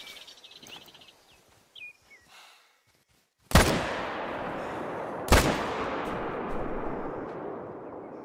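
Two loud hunting rifle shots crack in the video game The Hunter: Call of the Wild, about two seconds apart, each followed by a long rolling echo, after quieter ambient sounds and a brief bird call.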